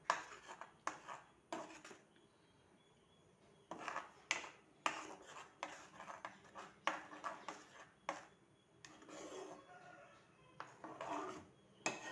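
A spoon scrapes and clatters in a pan while paneer is mixed into masala, giving irregular faint knocks and scraping strokes with pauses.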